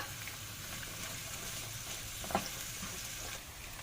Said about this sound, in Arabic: هنزل على الزيت بتاعي ب4 حبات كبار من البصل المتقطع